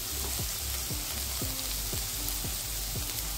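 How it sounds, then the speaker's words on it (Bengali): Onion and garlic sizzle steadily in a hot pan, a dense continuous frying hiss with soft periodic scraping strokes from stirring, close and alone with no talk. "পেঁয়াজ রসুনটাও একটু ভেজে নিচ্ছি।"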